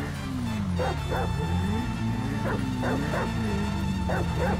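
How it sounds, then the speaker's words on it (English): A dog in the video game GTA 5 barks and yips in short repeated bursts with whimpering cries, close and loud over steady game music and background noise. "It's a guy chasing a dog!"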